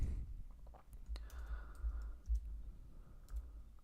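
Scattered clicks of typing on a computer keyboard, fairly quiet and close, in short irregular bursts with a low hum underneath and no talking.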